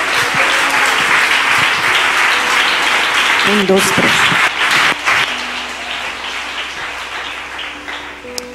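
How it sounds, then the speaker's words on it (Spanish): A large church congregation claps loudly and steadily while a preacher speaks over it, the applause slowly fading toward the end. "Dele un aplauso al Señor en esta hora."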